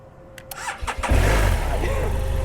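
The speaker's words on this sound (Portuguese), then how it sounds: "Vê ó. se a moto pega." A motorcycle with a broken battery terminal, patched with a thin improvised wire, cranks briefly and then catches, its engine starting and settling into a steady, loud, close idle.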